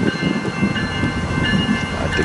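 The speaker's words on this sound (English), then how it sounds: "And at the very end is our little BN caboose." A BNSF freight train with a BN caboose at the end rolls past on the rails, a loud, close, continuous rumble of wheels with an uneven rhythmic clatter.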